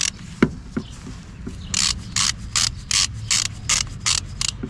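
A ratchet wrench loosens the battery terminal nut on a Renault Clio 4, starting with a few isolated clicks before a rapid series of sharp, close ratcheting bursts in an even rhythm.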